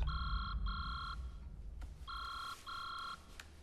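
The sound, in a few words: mobile phone ringing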